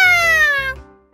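A cat gives a single clear, loud meow close by, a falling drawn-out cry lasting about a second.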